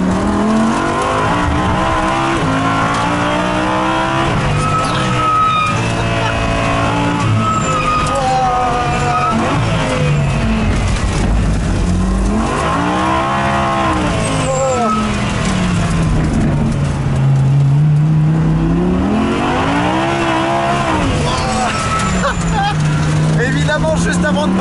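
An Audi R8 GT4 race car engine revs and accelerates on a wet track, heard from inside the cabin as rising and falling sweeps through the gears, loud and close, with a person talking over it.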